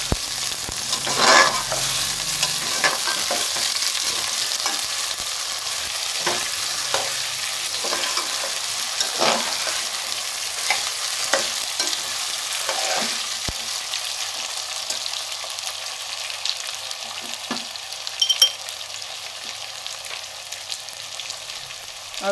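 Potato pieces fry in hot oil in a pan, giving a continuous bright sizzle broken by repeated scraping stirs of a spoon, close and without voices.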